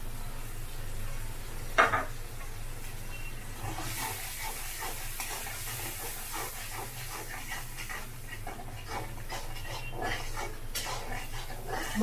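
Chili powder, turmeric, salt and coriander-cumin powder are tipped into hot oil in a pan while rohu fish with eggplant is cooked. Soft, steady frying sizzles throughout, with a single clunk near the start and light stirring scrapes.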